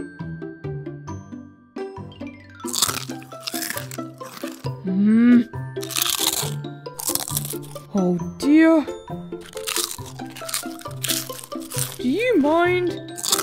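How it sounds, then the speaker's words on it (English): Crunchy snack eaten in a cinema, with repeated loud crunching and crinkling bursts and some tinkling sounds, heard under music while people talk and complain. "So you want us to stop eating our snack?"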